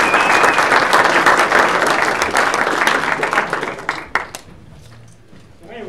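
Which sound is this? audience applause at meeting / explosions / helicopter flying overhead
audience applause at meeting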